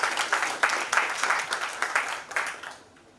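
An audience at a youth summit claps in uneven, overlapping bursts for several seconds before the applause fades out.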